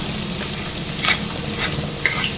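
Chopped onion sautéing over a high flame in a pan for Indo-Chinese gobi Manchurian, a steady close sizzle with occasional stirring scrapes and clinks.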